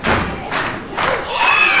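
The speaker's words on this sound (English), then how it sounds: "Crowd here trying to get behind the Lion Kid" A wrestling crowd at a live match roars and cheers for the Lion Kid in loud swelling waves, with heavy thuds from the ring between bursts.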